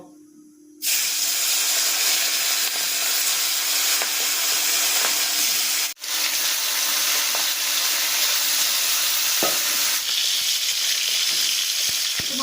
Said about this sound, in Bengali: এবার আমি মাছগুলো এক এক করে ছেড়ে ভালো করে ভেজে নেবো